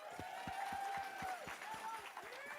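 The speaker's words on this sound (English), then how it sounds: "Big round of applause." Crowd applause and cheering from supporters at the 2021 Dempsey Challenge charity event, a steady wash of clapping with tonal voices and whoops riding over it, fairly loud and continuous for the whole stretch.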